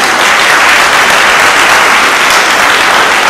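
A church congregation applauds in a loud, dense, sustained burst of clapping that fills the space evenly from start to finish, with no voices above it.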